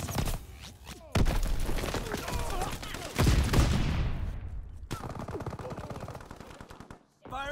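Rapid bursts of assault rifle fire from the KGM-21 in a WWII shooter, loud and close, with dense automatic volleys, brief pauses between them, and a shorter closing burst.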